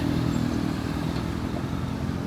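A motorbike passing through a lake park in Turin, Italy, a steady low engine drone that stays loud and close throughout, with no voices.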